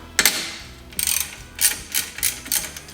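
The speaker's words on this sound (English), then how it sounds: "You're going to go ahead and loosen this 12mm right here on the front, the tensioner." Several quick bursts of ratcheting from a wrench loosening the 12mm alternator belt tensioner bolt on the front of a 2004 Subaru Forester XT engine, close up and distinct, with short pauses between strokes.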